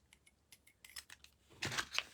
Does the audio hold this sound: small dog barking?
no